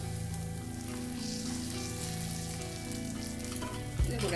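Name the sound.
rava dosa sizzling as it cooks on the pan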